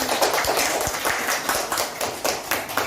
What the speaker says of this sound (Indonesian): Tepuk tangan untuk teman-teman.